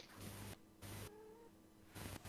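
A cat meowing close by, with three or four distinct, drawn-out meows separated by brief pauses in a quiet room.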